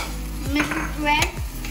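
Mutton korma with yogurt and a cashew-milk mixture stirred in a pot, soft rhythmic scraping strokes over a low steady simmering sizzle, close and alone.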